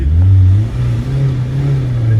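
A Volkswagen Golf Mk2 engine revs loud and close, its low drone rising and settling while the throttle is held, then easing back toward idle.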